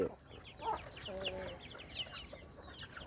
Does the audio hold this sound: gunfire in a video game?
no